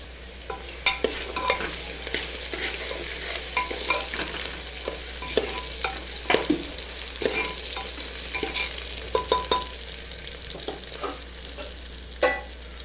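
Onions sizzle gently over low heat in oil for a fenugreek dal, with steady frying and repeated stirring scrapes and clinks of a spoon against the pan.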